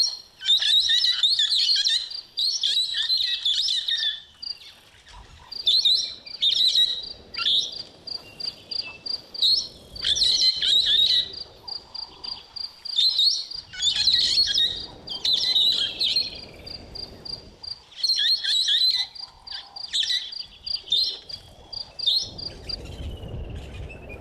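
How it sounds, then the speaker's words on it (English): A bird at a waterhole calls loudly and close in repeated bursts of high, rapid, chattering chirps with short gaps between phrases, over faint background insects and no talking. "this is what this beautiful bird sounds like when it's vocalizing."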